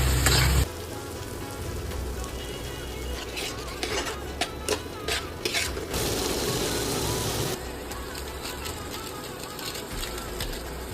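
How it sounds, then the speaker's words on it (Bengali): Cumin seeds and salt fry in hot oil in a pan, giving a steady crackling sizzle with brief sharper spattering bursts, close by and continuous. "এখানে হচ্ছে জিরে ফোড়ন দেওয়া হয়েছে, দিয়ে দিল নুন, এটাকে ভালো করে ভেজে নেবো।"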